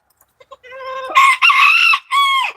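Hens in a pen with a rooster give a few soft clucks, then break into loud, close, strident cackling calls in three bursts.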